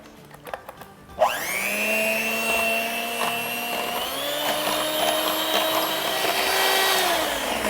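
Electric blender beats yogurt with sugar: a few clicks and taps, then the motor whirs up to a loud steady whine that holds, dipping slightly in pitch partway through.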